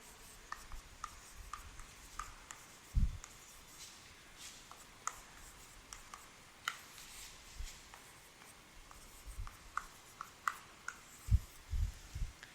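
Pen writing on paper as an example of equal sets is worked out: soft scratchy strokes and taps come in irregular bursts, quiet and close, with a few louder knocks and no talking.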